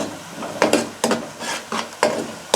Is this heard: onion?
yes